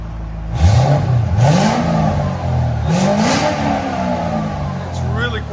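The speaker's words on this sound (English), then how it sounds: "It's really quiet at idle." A 2005-2009 Ford Mustang GT 4.6L V8 with aftermarket exhaust: a low rumbling engine that revs up twice with rising pitch sweeps and then settles, fairly loud and close, with no speech heard.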